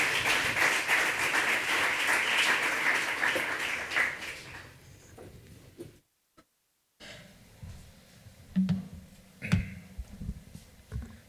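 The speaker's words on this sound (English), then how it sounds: "give a big round of applause to Pedro Rocha Vieira, who is the co-founder and CEO at BTI" Audience applause at a tourism event welcomes a speaker to the stage, a dense wash of clapping that fades after about four seconds, followed by a brief gap and scattered sparse claps and small stage noises.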